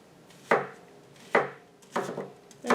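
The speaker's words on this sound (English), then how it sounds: "start cutting up my vegetables" A knife chops through an onion on a cutting board, three sharp, separate strikes with a short scrape or rub after each. The fourth cut is only beginning as the clip ends. The strikes sound close, with no talking.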